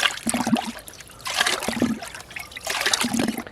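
Fertilizer solution being stirred in a bucket of water, giving three rhythmic swishing, trickling surges of liquid, close and moderately loud, with no voice over them.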